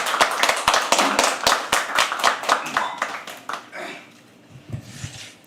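An open mic audience applauds a poet with a burst of rapid, close clapping that fades away after about four seconds, leaving quiet room noise and a faint voice.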